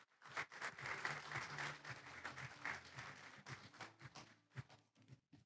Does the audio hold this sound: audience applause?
yes